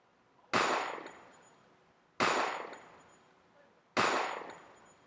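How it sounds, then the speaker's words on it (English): Three sharp gunshots, evenly spaced about every 1.7 seconds, each a loud crack with a decaying tail, isolated against near silence. "now we have a good sequence of gunshots"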